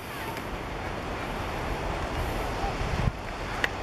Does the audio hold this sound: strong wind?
yes